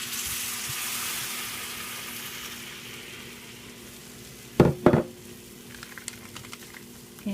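Water poured onto a hot rice dish on an Evolve grill gives a broad sizzling hiss that slowly fades, followed by a couple of sharp clattering knocks and small crackles.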